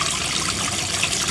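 Water from a small aquarium waterfall powered by a WP 104 pump flows steadily, a continuous close splashing trickle with no pauses and no voices.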